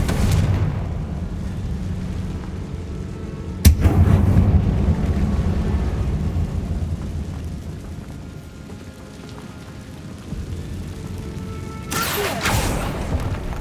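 In Hogwarts Legacy, the Confringo fire spell goes off with a sharp crack and then a long roaring, crackling rush. A second burst comes near the end, under steady rumbling game ambience with no talk.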